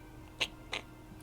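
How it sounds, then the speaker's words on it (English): A cat summoned by a boss in the Dofus video game gives two short, faint meow-like calls in quick succession over a quiet game background. "He does summon a cat"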